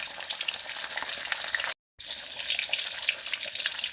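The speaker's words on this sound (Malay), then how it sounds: "kita goreng sampai dia garing sini juga sebelah lagi" Steady close sizzling and crackling of sea bass frying in oil in a pan, with a brief cut to silence midway before the frying resumes.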